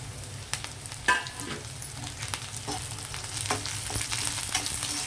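Dry red chillies and curry leaves sizzle in hot oil as a tempering, a close, busy crackle with sharp spits and pops that builds slightly louder toward the end, with no voices.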